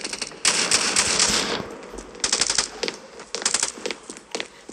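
Rapid bursts of automatic gunfire from the mobile shooter game Standoff 2, loud crackling volleys in quick rhythmic clusters with short pauses between, no talking.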